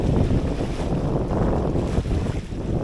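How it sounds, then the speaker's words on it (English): A sailboat motor-sailing in a breeze at sea, a steady low engine drone mixed with wind buffeting the microphone and rushing water along the hull, loud and continuous with no talking. "We're doing a motor sail"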